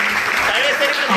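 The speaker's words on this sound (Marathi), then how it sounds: "तुम्हाला जोरदार सगळ्यांच्या टाळ्या" Short burst of audience applause at a newspaper anniversary award ceremony, a dense wash of many hands clapping at moderate volume for about a second.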